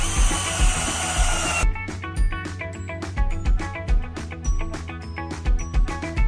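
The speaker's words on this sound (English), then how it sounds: "With that hole drilled in the center" A power drill bores a hole in the center of a wooden picnic table surface, a brief high whirring burst followed by the tool's hum and a series of knocks and clicks, close and moderately loud, with no talking.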